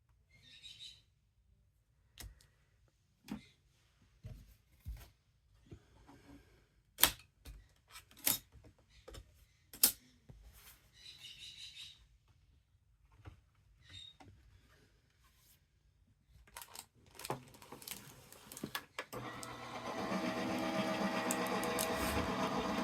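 A die-cutting machine takes a Crafter's Companion decoupage sheet back through, first with scattered clicks and taps, then a steady, close mechanical whirring grind near the end.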